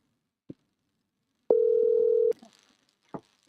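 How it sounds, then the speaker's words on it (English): A landline telephone gives a steady, loud dial tone for under a second. Faint clicks of dialing come just before and after it, in an otherwise quiet line. "dialing now"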